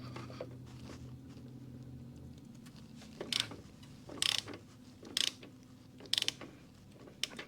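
A ratchet works a 3/4-inch suspension bolt loose, with a low mechanical hum followed by several sharp, close clicking bursts spaced about a second apart.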